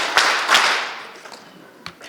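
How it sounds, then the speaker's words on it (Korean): Sharp claps from an audience at a Rotary leadership workshop: two strong, crisp hand claps in quick succession, followed by a fainter single clap after a pause, in a reverberant room. "박수 3번 시작."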